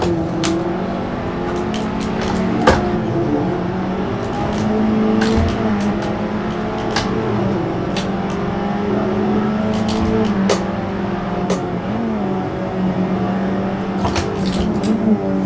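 A race car laps a track in Assetto Corsa, its engine droning loudly and steadily with rising and falling revs through gear changes, punctuated by frequent sharp clicks and ticks, with no talk.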